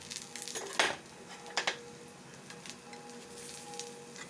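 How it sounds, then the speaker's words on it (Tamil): Knife scraping and clinking against a paniyaram pan while wheat-flour kara paniyaram are flipped, a couple of sharp metallic scrapes near 0.8 and 1.6 seconds over a faint steady sizzle with a low hum. "கத்தியால் திருப்பி பார்க்கலாமா?"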